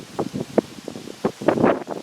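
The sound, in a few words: wind blowing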